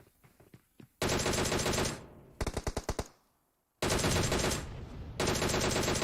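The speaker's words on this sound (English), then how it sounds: "Perk's taking a couple of shots now." Automatic gunfire in a competitive pro scrim video game match: loud rapid bursts, a long sustained spray, a short staccato string of shots, then two more heavy bursts, with no voices.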